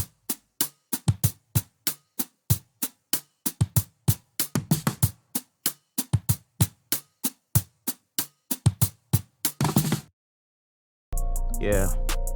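A drum break programmed in Addictive Drums 2 runs as a steady, punchy pattern of kick, snare and hat hits for about ten seconds, stops, and is followed by a brief, different sound after a short silence.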